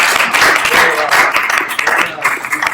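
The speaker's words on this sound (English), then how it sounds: "I just want to give a round of applause to our awesome organizer." A tech meetup audience claps enthusiastically, a dense burst of applause that continues for a few seconds before thinning slightly.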